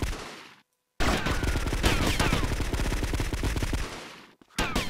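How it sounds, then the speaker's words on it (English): Rapid, sustained gunfire from a small handgun in the video game GTA Vice City, loud and dense for several seconds after a brief silence, then a final burst, with no talk. "Takes quite a few rounds for that little gun to take him down, as you can see."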